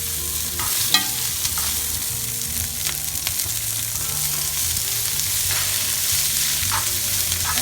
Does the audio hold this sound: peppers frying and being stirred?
yes